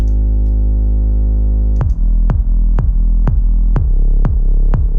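A low, smooth Serum sine bass note in FL Studio holds alone, then a punchy kick drum enters and thumps steadily on every beat beneath it, loud and close.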